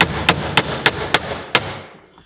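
Six sharp metal hammer taps on kayak pedal drive parts for a FeelFree Lure 11.5 V2 Pedal Overdrive upgrade, struck close and fairly loud in an uneven rhythm, then a quiet fading tail with no talk.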